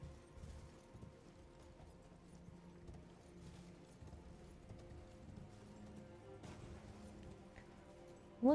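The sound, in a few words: horse hooves clip-clopping in a video game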